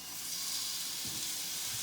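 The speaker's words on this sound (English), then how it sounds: "So we're just searing it right now." Beef sears in a very hot pan with a steady, soft hiss and sizzle, close but fairly quiet, plus a few low clunks near the end.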